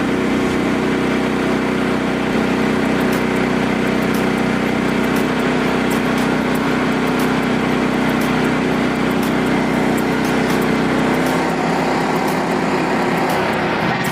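A Frontier sawmill cuts through a knot-free black cherry log with a loud, constant engine-and-blade drone that holds steady from start to finish, with no voices.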